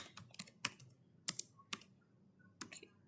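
Quiet, irregular keystrokes on a computer keyboard, a few sharp clicks spaced out over a couple of seconds, close up and alone with no speech.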